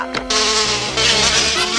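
A cartoon mechanical mosquito gives a loud, steady insect-like buzzing whine that drones continuously over music, rising briefly at the start and holding level throughout.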